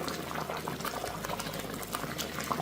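Sugar syrup for aloo bukhara chutney bubbles vigorously in a pan, a dense close crackle of popping bubbles, steady and alone without talk.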